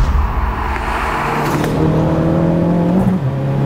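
A 380 bhp Ford Focus ST Mk4 accelerating from inside the car, the engine rising in pitch with a loud, rough roar and a brief shift partway through, close and steady.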